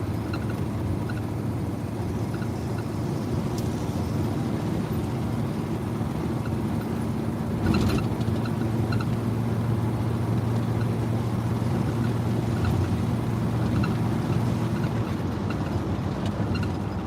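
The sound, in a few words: rebuilt 700 transmission car shifting gears on test drive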